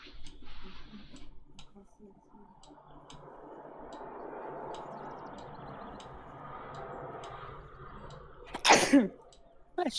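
A single sharp sneeze bursts out loudly near the end, following a stretch of low background noise from a fishing game session.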